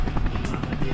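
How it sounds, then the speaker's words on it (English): A helicopter in the VRChat video game drones steadily and loudly through the whole second, a continuous rotor thrum with no break. "The chicken is flying the helicopter."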